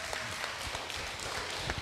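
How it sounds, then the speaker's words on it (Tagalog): Audience at a church healing service gives a brief, rather subdued round of scattered applause, a soft continuous patter of many hands with a few louder claps standing out. "Yung palakpak niyo parang hindi naniniwala."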